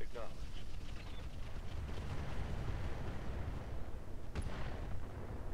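Mech weapons fire at an enemy in the Roguetech video game, heard as dense booming artillery-like blasts and rumbling explosions, with a sharp crack near the end. Someone talks over the barrage.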